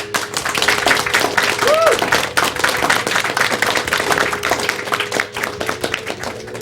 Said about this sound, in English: So I think we should all give ourselves a round of applause for that.